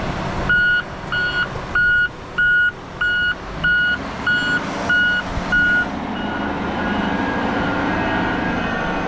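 A wheel loader with a 9-yard bucket working at a small wash plant, its reversing alarm beeping in a regular series of about ten tones over a loud diesel engine rumble that continues after the beeping stops.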